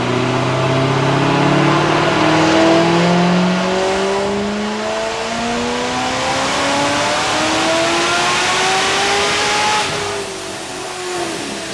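A 1000 hp Procharged Corvette C7 revving hard, its loud, close engine note climbing steadily in pitch with supercharger whine layered on top, sustained throughout and cutting out near the top of the rev range.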